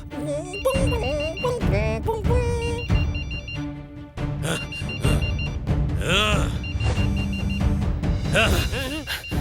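A cartoon character imitates a mobile phone ringtone with his mouth, producing a warbling, looping electronic melody of sustained tonal notes that runs continuously and loudly.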